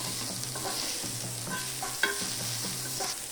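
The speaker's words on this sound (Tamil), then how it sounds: "வதங்கி போட்டோம்" Onions sauté in a pan for a chutney, giving a steady, loud sizzle throughout, with repeated scraping stirs of a spoon and one sharper clink. No one speaks.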